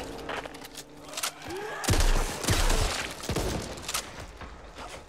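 Rapid bursts of gunfire from the co-op shooter Back 4 Blood, with a heavy thump and impacts, loud and close, amid chaotic game noise.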